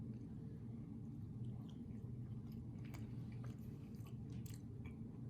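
Someone chews an oven-baked glazed blueberry turnover close to the microphone, with soft steady mastication and a few faint crunchy bites.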